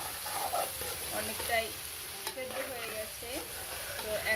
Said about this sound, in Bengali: আমি চার থেকে পাঁচ মিনিট ভেজে নিচ্ছি